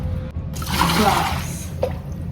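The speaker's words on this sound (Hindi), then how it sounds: "गिरा दिया पानी।" A brief gush of water splashes down onto a hard floor, then trickles off, followed by a small drip or splash near the end.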